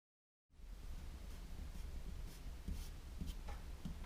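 Pencil scratching steadily across paper while sketching a zebra's head, starting from the ear, with soft continuous rubbing strokes close to the mic and a few sharper ticks, no voices.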